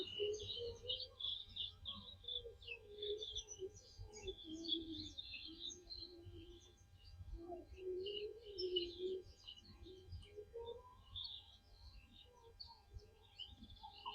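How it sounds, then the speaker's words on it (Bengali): Many birds calling on a misty dawn at a wetland beel at Sahapur: high chirps and tweets overlap with lower cooing like doves, spread around the listener at moderate distance. "পাখি, এত পাখি ডাকছে"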